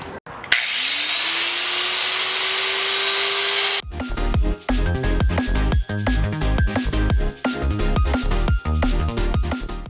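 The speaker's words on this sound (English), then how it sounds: "So now we're gonna get our angle grinder and we're gonna cut those pieces out." Angle grinder spinning up with a rising whine, then cutting pieces of car body metal from a wrecked 180SX front end, harsh loud grinding broken by short pauses.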